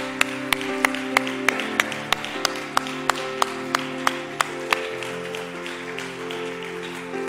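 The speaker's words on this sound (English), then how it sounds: "Let's give the Lord a hand clap of praise." A church congregation claps hands in praise during a Sunday service, a steady run of sharp, evenly spaced claps over a sustained organ-like musical backdrop, with no talking.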